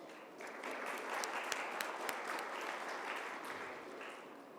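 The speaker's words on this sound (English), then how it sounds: "So a round of applause for our panelists." An audience applauds steadily for several seconds, a dense wash of clapping with a few sharper claps standing out.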